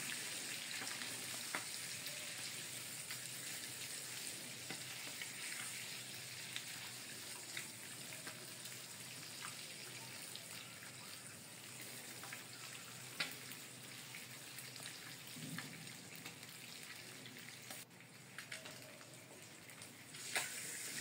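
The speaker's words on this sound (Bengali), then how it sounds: "এভাবে ভেজে নিচ্ছি সবগুলা ডিম" Eggs frying with turmeric and salt, a constant close crackling sizzle with faint stirring and scraping, steady in level throughout and with no voices.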